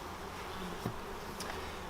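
Honey bees from a four-frame nucleus colony being moved into a ten-frame hive box, giving a faint, steady low buzz with a couple of brief closer passes.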